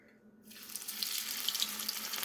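Coconut-flake-coated tempura shrimp dropped into hot oil, with a bright hissing sizzle that starts abruptly after a quiet moment and keeps going steadily, close and without voices.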